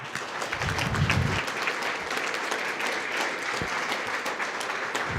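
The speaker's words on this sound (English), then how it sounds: "let's have a big round of applause for all of our Table Topics contestants" A club audience applauds Table Topics contestants at a speaking competition awards session, steady dense clapping lasting throughout at moderate volume.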